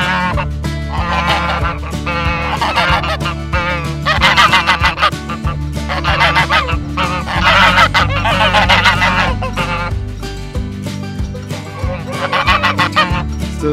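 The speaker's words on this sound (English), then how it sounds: "So the geese are out and about." A flock of geese grazing in a large farm field honk repeatedly and loudly, overlapping calls rising and falling in noisy bursts close by, with no talking.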